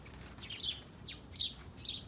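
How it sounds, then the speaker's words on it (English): Several birds squabble in a garden with hydrangeas and lilies, giving a few sharp, high chirps and calls spaced apart at moderate distance over faint outdoor background noise. "there's a little kerfuffle going on with those birds back there"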